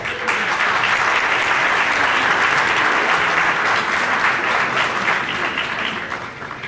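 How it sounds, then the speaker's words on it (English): Sustained audience applause fills an eighth grade promotion assembly, a dense steady roar of many hands clapping that holds loud throughout and tapers slightly at the end. "give a round of applause"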